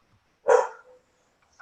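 A single close, sharp dog bark sounds in a home during a board of health meeting, followed by a short faint yelp-like sound, with no talk.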